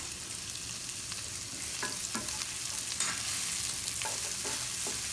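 Diced red onion and pressed garlic sauté in a skillet with a steady, close sizzle and a few soft scrapes from stirring, with no talking.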